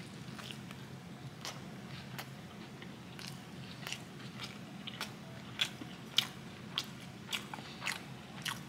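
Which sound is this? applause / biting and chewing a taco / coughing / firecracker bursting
biting and chewing a taco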